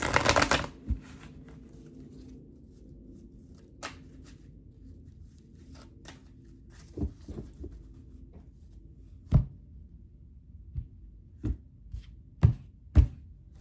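Tarot cards are shuffled in a brief riffle at the start, followed by scattered sharp taps and slaps of cards being laid down, close up in an otherwise quiet room.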